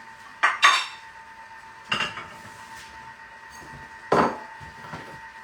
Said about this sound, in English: I need to get a bowl out.